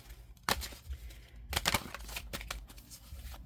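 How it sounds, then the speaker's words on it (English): Tarot cards shuffled by hand during a reading, giving crisp papery riffling bursts near the start and again in a longer flurry midway, close to the microphone with no talking. "Let's do again 2 more shuffles."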